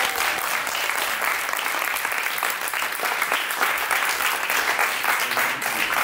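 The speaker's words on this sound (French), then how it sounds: "On peut les applaudir encore une fois." An audience at a comedy show claps loudly and continuously, a thick, even roar of applause with no pause throughout.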